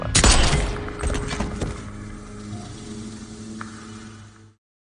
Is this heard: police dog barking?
no